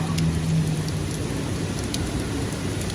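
Torrential rain from the remnants of Hurricane Ida pours over New York City, a dense, loud, continuous hiss of downpour with low rumbling beneath and no voices.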